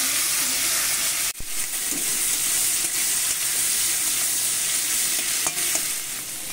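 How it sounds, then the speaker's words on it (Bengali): Bitter gourd fries in oil with a continuous, loud, close sizzle and hiss, broken by a couple of brief sharp knocks from the utensil; no one speaks. "উচ্ছে ভেজে নিচ্ছি"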